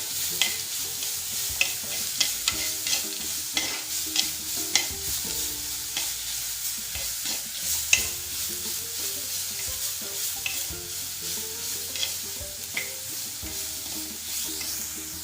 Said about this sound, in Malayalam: ഈ ചതച്ച് വെച്ചിരിക്കുന്ന കുരുമുളകും ജീരകവും ഇഞ്ചി ഇതിൻ്റെയൊക്കെ കൂട്ട് ഇതിലേക്ക് ഇട്ട് കൊടുക്കാം ഇതൊന്ന് വഴറ്റി കൊടുക്കാം